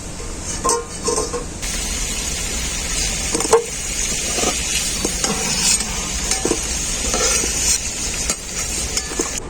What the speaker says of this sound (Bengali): আলুগুলোকে আমি খুব ভালো করে ভেজে নিয়েছি একদম লাল লাল করে